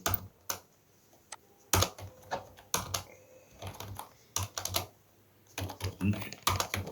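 Keystrokes on a computer keyboard as a web address is entered, clustered bursts of quick clicks with short pauses between, fairly close and moderately loud, with someone speaking briefly in between.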